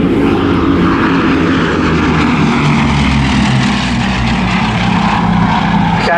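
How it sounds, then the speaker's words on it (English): A Bristol Blenheim bomber flies past at an airshow, its twin piston engines droning loud and steady with a rough propeller throb that swells slightly, with no voices throughout. "this is now the only flying example of the Blenheim, representing the light bombers of the early war years"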